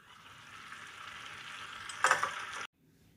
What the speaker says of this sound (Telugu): ఇప్పుడు దీనిపైన మూత పెట్టి 10 నుంచి 15 నిమిషాల పాటు మీడియం ఫ్లేమ్లో ఉంచుకొని కుక్ చేసుకోవాలి